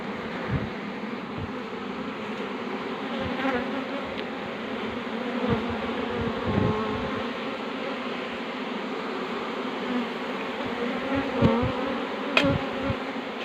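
A dense, steady buzzing of a honeybee swarm at a hive fills the scene without pause, loud and close, with occasional louder passes of individual bees.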